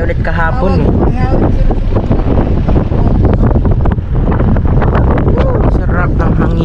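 Gusty wind buffets the microphone outdoors in Neopolitan Park in Fairview during a brisk walk, a loud steady rumble throughout with people talking over it.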